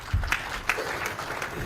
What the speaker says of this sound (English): Let's have a better round of applause for our clerk.